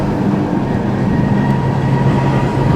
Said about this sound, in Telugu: ఈ ట్రైన్ జర్నీ కూడా చాలా బాగుంది.